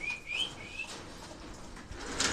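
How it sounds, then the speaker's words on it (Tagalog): Pigeons released indoors at a pigeon-racing event give a few chirping calls early on, followed by soft flapping and a brief louder flutter near the end against a steady background. "Mga ibon natin, oh."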